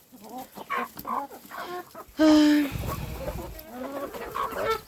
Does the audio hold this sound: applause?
no